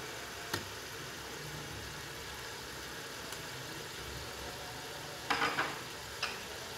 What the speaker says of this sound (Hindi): 2 मिनट के लिए हम मसाले को भूनते हैं